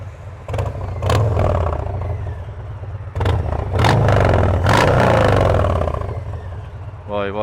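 A Harley-Davidson Softail Heritage Classic 114 engine is revved in several rising and falling bursts, loud and close, while people talk over and between the revs.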